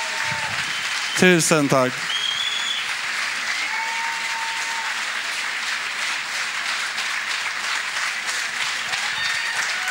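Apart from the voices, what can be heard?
audience applause at Stockholm Pride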